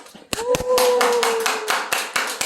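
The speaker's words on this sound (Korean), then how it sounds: "다음은 함께 박수 한번 크게 주시면 좋겠습니다" A congregation at a Korean church gathering claps together, a burst of loud, dense hand claps with a few sharper individual claps standing out, while a faint sustained tone lingers underneath.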